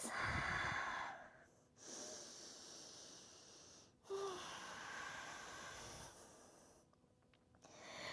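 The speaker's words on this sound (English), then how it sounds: "Breathing in through the nose," Slow nasal breaths during a yoga flow, airy inhales and exhales in long swells with short pauses between them, close and fairly quiet, with no talking.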